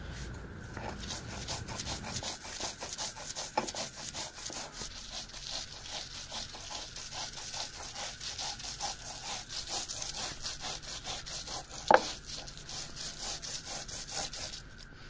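Peanut paste with salt being ground by hand on a grinding stone, a steady rhythmic rasping scrape repeating close up throughout, with one sharp knock near the end and no talking.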